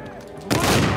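A shotgun blast from Uncharted 4 gameplay erupts as one loud, close burst at the midpoint, dense and broadband. Its roar carries on to the end with no quieter tail, and a quieter game ambience comes before it.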